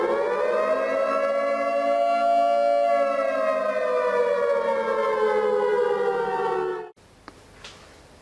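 Civil defense style siren effect played from a novelty button, a loud sustained wail that slowly sags in pitch, then cuts off abruptly near the end.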